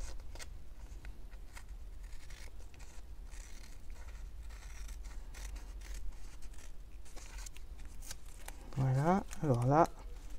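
Large scissors snip through masking tape in a few quiet cuts, close and soft, with a brief louder snipping pair near the end under low room tone and faint talk.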